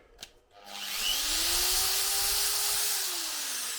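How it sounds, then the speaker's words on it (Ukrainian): An electric drill powered through a 12/220V inverter spins up after a sharp click, its motor whine rising and holding steady, then sagging slightly in pitch toward the end, loud and close with no talk over it. "ну давайте спробуємо дрельку вчепити. включили"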